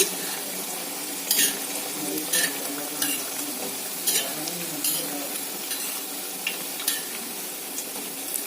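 Coconut sweets fry in hot oil in a pan, giving a steady close sizzle with intermittent sharper bursts as pieces are stirred and turned.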